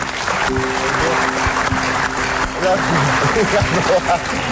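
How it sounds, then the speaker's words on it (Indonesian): Studio audience applause on an Indonesian TV talk show, a steady broad wash of clapping filling the room, with a host's voice and music tones running underneath throughout. "Oke, tepuk tangan dulu untuk mereka semua."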